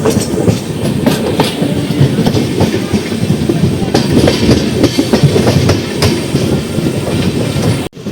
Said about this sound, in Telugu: ప్రస్తుతం మన ట్రైన్ అయితే మన ఊరు దగ్గర నడుస్తుంది.